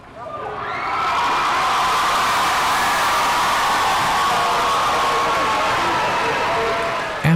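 Family and friends lining the streets cheer as new Marine recruits run past, a broad, sustained roar of crowd noise that swells in after a moment and holds steady, with scattered shouts inside it.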